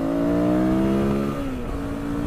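A V-twin motorcycle engine riding Route 16's winding sweepers, a loud, steady droning tone with wind rush, its pitch easing downward partway through as the bike slows.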